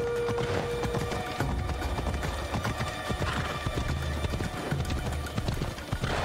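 Horse hooves clip-clop at a gallop in Assassin's Creed Odyssey, a dense steady rhythm with a whinny, heard up close and continuous over a busy game soundscape.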